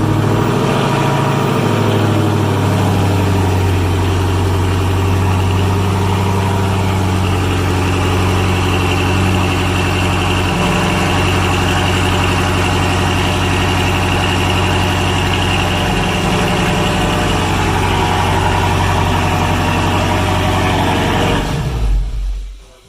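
A 2019 Dodge Charger R/T with a Borla cat-back exhaust idles steadily after a cold start, its deep, loud burble running continuously until it cuts off at the end.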